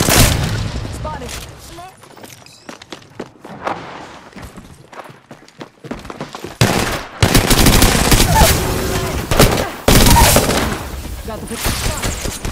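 Gunfire in the video game Apex Legends: loud bursts of rapid automatic shots and heavy impacts, with a quieter stretch early before dense firing resumes; game voice lines may be mixed in.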